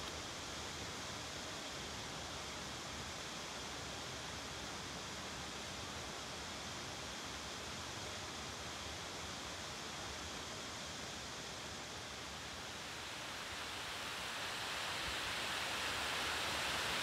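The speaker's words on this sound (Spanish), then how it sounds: "dejo a la espalda el sordo rugir del agua, que paso a paso se escucha más lejano" Steady broadband roar of the Chorrera de los Litueros waterfall on the slopes of Peña Cebollera, heard from a mountain trail as a continuous wash of falling water that holds constant and then swells slightly near the end.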